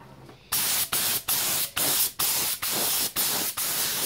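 A spray gun applies paint to motorcycle plastics in short, loud, close hissing bursts. There are about eight bursts in steady rhythm, each about half a second long with brief pauses between, and no talk.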